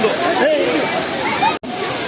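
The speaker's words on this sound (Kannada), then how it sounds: "ಆನೆ ಸೊಳ್ಳಿನಿಂದ ನೀರು ಬರ್ತಿದೆ ನೋಡಿ" Water pours from the trunk of an elephant statue at Kallathigiri in a continuous splashing rush, with people talking over it and a brief cut near the end.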